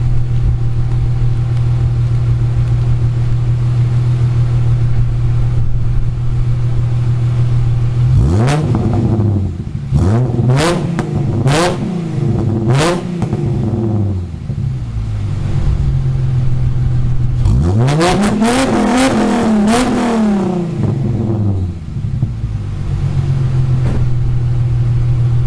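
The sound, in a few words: Holden Commodore L67 engine revving after fuel regulator install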